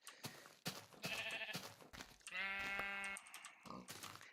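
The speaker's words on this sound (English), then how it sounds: "I'm just going to punch these sheep, because there's a lot of them, and they are loud." Video game sheep bleat loudly in a rapid series of wavering calls, several animals overlapping near the listener with soft clicks in between and no talk.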